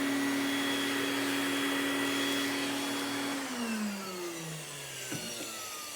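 A Vevor sweeper vacuum runs loud and close with a steady high whine and roar, then its pitch drops and winds down partway through as the motor slows, with a faint knock near the end.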